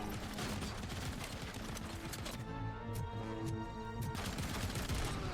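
Rapid turret gunfire in the shooter Robocop: Rogue City, a steady stream of quick shots with a brief lull after two seconds where a mechanical hum shows through, then the firing picks up again.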